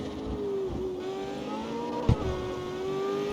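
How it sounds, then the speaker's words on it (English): A McLaren car engine in the street-racing game CarX Street holds high revs with a steady whining drone and a brief throttle blip partway through, loud and close with no talk over it. "The revs are sitting nice and high."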